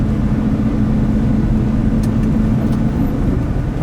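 A red pickup truck in four-wheel drive cruises along a snowy road behind a snowplow, giving a steady, loud engine and road drone that stays constant throughout.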